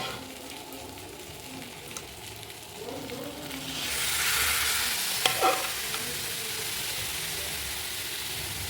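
Young jackfruit fries in a pan, a quiet sizzle that swells into a louder hiss midway, with a few sharp scrapes of stirring.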